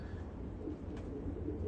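Young racing pigeons coo softly in a loft, giving low, murmuring calls that are faint but steady against constant background rumble.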